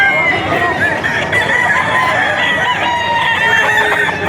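Roosters crowing repeatedly at a Bocaue gamecock auction market, with several birds overlapping in loud, continuous calls against busy crowd and market noise.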